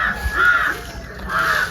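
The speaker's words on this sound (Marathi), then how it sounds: "म्हण कावळा आरायला कोणतरी येतं" A crow caws twice in a Konkan village setting, two harsh drawn-out calls separated by a short pause, fairly close and clear against quiet background.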